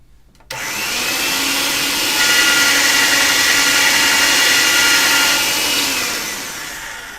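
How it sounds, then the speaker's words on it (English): Hand-cranked pasta machine rolling thick polymer clay sheets, a sustained whirring mechanical drone that starts abruptly, swells midway and fades near the end, with no talking. "I'm going to get them through the pasta machine on the thicker setting."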